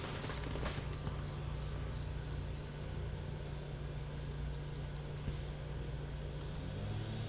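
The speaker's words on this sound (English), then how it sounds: "I hear crickets." Crickets chirp in quick, high pulsed bursts during the first few seconds over a steady low electrical hum, faint and distant, before fading into the hum alone.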